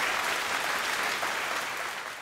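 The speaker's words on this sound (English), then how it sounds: "applause for Robin Brill and her dance partner" Steady audience applause for a couple of award winners at a celebrity dance challenge, a dense wash of clapping from a crowd that holds constant and fades slightly at the end.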